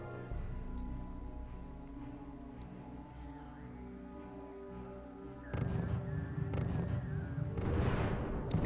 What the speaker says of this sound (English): Okay, so now artillery's stacking up and starting to take down.